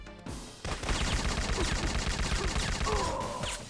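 Rapid automatic gunfire in the video game Syphon Filter, a dense continuous burst of shots starting after a brief pause and running loud to the end.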